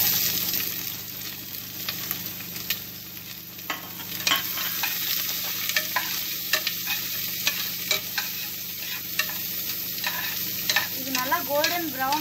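Onions and green chillies sautéing in a pan: a constant crackling sizzle with frequent spatula scrapes and stirring strokes, close up and fairly loud.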